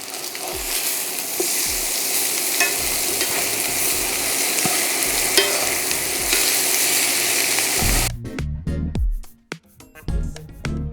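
Golden-browned chicken thighs fry loudly in a skillet, a dense continuous sizzle with light clinks, then the hiss breaks into sputtering pops and clatter as the pieces are flipped.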